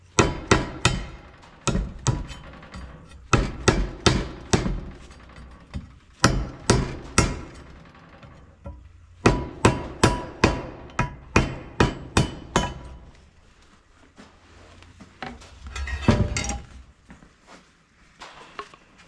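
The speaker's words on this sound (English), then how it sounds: "But I got to get this old gasket taken off." Steel hammer blows ring out close and loud as an old gasket is knocked off the engine of a John Deere 4840 tractor, struck in rapid clusters of sharp strikes with short pauses between them.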